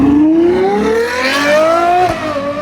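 A Ferrari 812 GTS supercar fitted with a Novitec exhaust revs loudly and close by, its engine note sweeping steadily upward, then dropping sharply near the end, with no talking.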